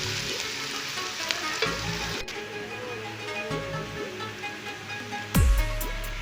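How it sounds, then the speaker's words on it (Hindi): Onions sizzling in a pan as ginger-garlic paste is added, for aloo bhujia; a steady close frying hiss with scattered stirring scrapes and a louder burst of sizzle near the end. "प्याज को हमने फ्राई कर लिया थोड़ा सा और ये लाइट सा इसका कलर चेंज हुआ है।"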